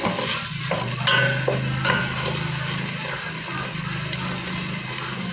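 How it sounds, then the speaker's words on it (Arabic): Onion fries in olive oil in a pan, a loud, close, steady sizzle with stirring scrapes and clinks from a utensil throughout, no talking. "درت هاد البصيله ديالي كتشحر مع زويته"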